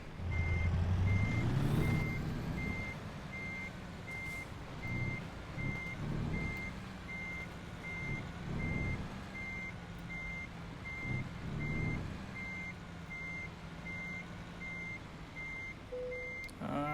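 In American Truck Simulator, a truck backing into a parking space sounds its reversing alarm: a long run of evenly spaced, clear beeps over a low, rumbling engine idle.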